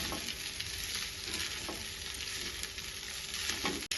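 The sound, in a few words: stirring and frying leftover rice for egg fried rice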